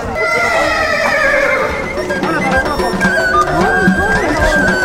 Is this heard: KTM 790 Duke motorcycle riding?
no